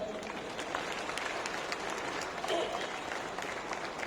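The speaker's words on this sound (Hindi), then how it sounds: "मैं चाहता हूं आप लोग उनके लिए एक बार तालियां बजाएं।" A stadium audience at the opening ceremony of an all-India fire service sports competition claps in a steady, dense wash of applause that lasts throughout, fairly loud and close.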